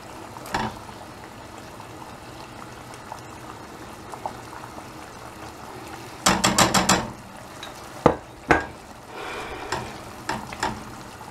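Tuna being stirred into a pan while rice cooks for a simple São Miguel-style tuna rice, with quiet bubbling and a cluster of sharp scraping clatters midway followed by a few isolated knocks and scrapes.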